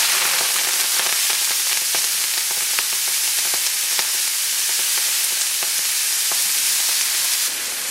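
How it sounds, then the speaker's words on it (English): Broccoli rabe sizzles hard in a pan of hot garlic oil, a loud and steady frying hiss broken by scattered sharp pops and crackles for the whole stretch. "add the broccoli rabe. And it's going to sizzle a lot"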